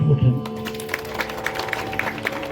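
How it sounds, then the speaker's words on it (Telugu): An audience at a state-level yoga competition in Mandamarri breaks into scattered, crisp clapping that continues steadily after a voice finishes speaking at the start. "ఒకసారి అందరి వాళ్ళు చప్పట్లు కొట్టండి."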